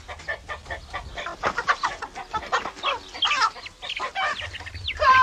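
Hens cluck and squawk close by in a busy stream of short, repeated calls, with a few sharper squawks breaking through toward the end.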